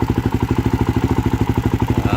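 A 2013 Suzuki DRZ400SM single-cylinder engine runs at a steady idle on a temporary exhaust, giving a close, loud, evenly pulsing thump with a rattly edge throughout.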